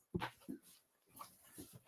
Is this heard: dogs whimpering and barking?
yes